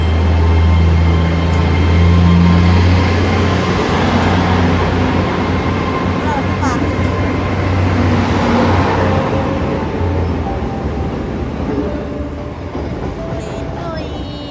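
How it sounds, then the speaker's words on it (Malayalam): A train pulls out of a UK station bound for Bristol, a loud low rumble and hum with rail clatter that slowly fades as it moves off. "ട്രെയിൻ പോയി"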